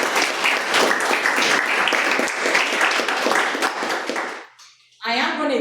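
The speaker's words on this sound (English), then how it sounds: "Let's give him a applause" Audience applause for a Toastmasters speaker at a club meeting: dense, steady clapping from a room of people for about four seconds, fading out, then a short burst of voices.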